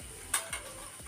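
Capsicum frying in a pan for a paneer dish makes a faint, quiet sizzle broken by two quick scraping stirs.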